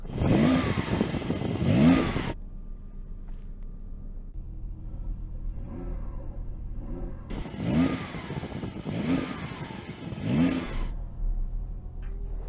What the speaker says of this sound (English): Let's hear the Porsche, or try to, because that'll sound rubbish as well.